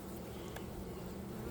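Honey bees buzz around hive frames coated in propolis and wax, a faint, continuous, fuzzy hum with no voices.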